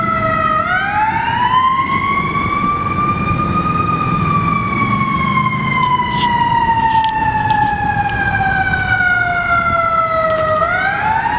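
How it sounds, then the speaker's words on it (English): A fire truck siren wails loud and continuous nearby, rising in a long sweep, slowly falling, then climbing again, over steady road rumble with no talk. "Drown out some of the fire truck noise there."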